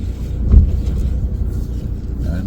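A motorhome pulling away from a Kelling Heath campsite after the handbrake is released, a close low engine rumble with a brief swell as it moves off, then steady drive noise, no talk.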